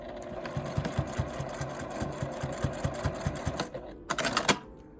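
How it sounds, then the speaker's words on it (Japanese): A sewing machine stitches along the edge of a fabric tent pouch with a rapid, even mechanical chatter up close, then stops and gives a brief burst of higher clatter. "端を縫います。"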